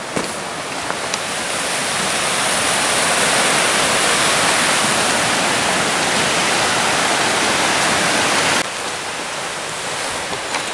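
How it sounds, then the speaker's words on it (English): The River Clywedog rushes in a loud, steady roar of flowing water, like a waterfall, heard close with no voices. "the river is called River Clywedog"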